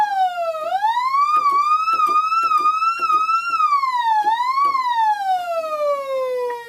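A Korg Mini-Korg 700 analog synthesizer tone glides smoothly up and down in long portamento sweeps, imitating a wailing siren, loud and continuous throughout.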